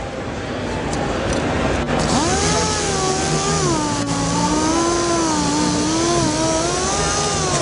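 An air-powered dual-action sander runs steadily against a car body panel during finish sanding, a continuous close whir whose pitch wavers and dips slightly as pressure shifts, with a brief interruption near two seconds.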